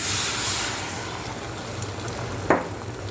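Eggs frying in a lightly oiled hot pan, giving a moderate continuous sizzle with a low hum underneath and one brief sharp clink near the end, with no talk.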